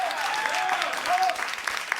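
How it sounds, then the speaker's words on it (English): A television studio audience applauds, a dense, steady patter of clapping with a few cheers rising over it, close and fairly loud for the whole stretch. "They are applauding a statistic."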